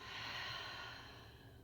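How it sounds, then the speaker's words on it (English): A single audible deep breath, a breathy inhale flowing into a smooth exhale, soft and close, heard alone. "Maybe make it audible. Nice deep inhale in and a smooth breath out."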